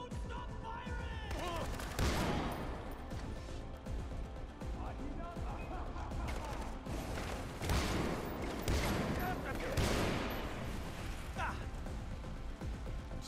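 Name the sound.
gunfire in the video game Far Cry 4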